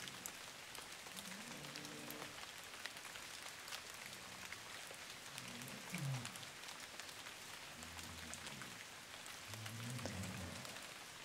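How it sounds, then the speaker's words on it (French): Rain falls steadily as a soft, continuous patter and hiss, faint and even throughout, with a low rhythmic hum, likely a dog snoring, pulsing slowly beneath it. "Le son de la pluie de cette vidéo."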